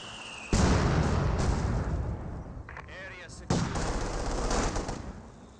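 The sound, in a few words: mortar barrage in Company of Heroes 2 video game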